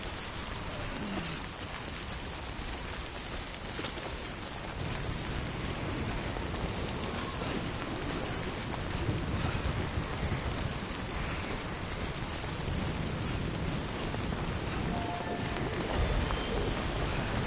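Steady timefall rain pours down in the video game Death Stranding, a dense, continuous hiss of drops on surfaces with low rumbling underneath, loud and unbroken with no voices.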